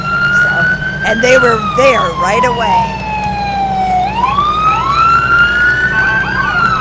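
A wailing police siren from a police car in a Fourth of July parade sweeps steadily up and down in pitch, loud and close, while a person talks over it.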